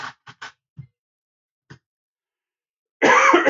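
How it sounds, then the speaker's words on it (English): A few short, soft coughs or throat sounds spaced apart in near silence, then a sudden loud burst of noise at the end. "Oh, excuse me, I have to get a cough through."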